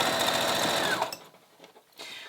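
A sewing machine stitches a simple crossbody bag from the bottom up, running in a fast, steady close-up whir for about a second before stopping, followed by faint handling sounds and a brief restart.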